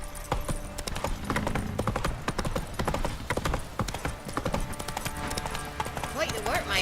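A horse's hooves clip-clop steadily on the ground in The Witcher 3, the sound of the video game mount walking while voices talk over it.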